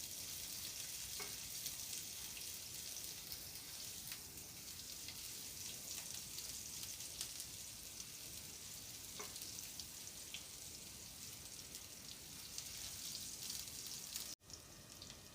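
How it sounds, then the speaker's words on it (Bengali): Half a cup of chopped onion frying in hot oil for a Bangladeshi tripe bhuna, a faint, even sizzle that holds steady with scattered tiny pops and a brief knock near the end. "পেঁয়াজ কুচিটা ভেজে নিব"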